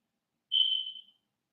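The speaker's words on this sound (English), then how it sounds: "The smoke alarm chirp. You guys heard it." A single high-pitched electronic chirp from a smoke alarm with a low battery, short and piercing, tapering off after under a second, with silence around it.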